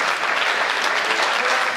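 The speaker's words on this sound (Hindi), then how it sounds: "बढ़ाओ ताली" Audience at a Hindi comedy poetry gathering clapping together, a dense, even burst of applause filling the whole moment without pause.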